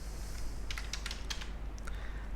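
Typing code on a computer keyboard, with a quick cluster of soft key clicks in a quiet room over a steady low hum.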